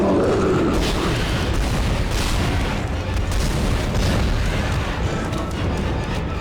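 Line gun blasts from the survival horror game Dead Space, a dense, continuous roar of booming explosions and rumble filling the whole stretch, loud and unbroken.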